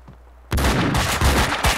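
Gunfire in the video game Max Payne 2: after a quiet half second, a loud burst of rapid close gunshots erupts, with repeated sharp reports continuing through the rest of the moment.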